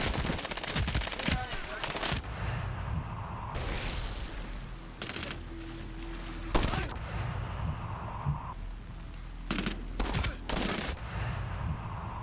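Video game gunfire from 870 shotguns and PKP machine guns: dense, loud rapid bursts and booming blasts, broken by brief lulls, sustained throughout.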